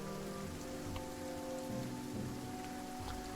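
Steady heavy rain falls as a dense, continuous wash in The Banner Saga 2, with low tonal game ambience humming beneath it and no voices.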